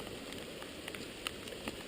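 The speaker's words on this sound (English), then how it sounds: "it's sweet paddling in the rain" Rain falling on a river at a bushcraft campsite, a steady soft patter with occasional sharper drips landing close by.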